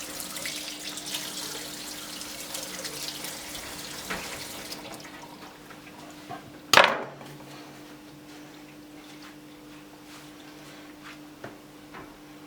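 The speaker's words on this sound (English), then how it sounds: "Always run the tap for a second before you wash it" A kitchen tap runs in a soft, steady stream for about five seconds before being shut off, followed by a single sharp clunk, while perch is being filleted.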